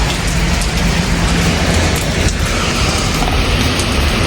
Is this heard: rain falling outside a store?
yes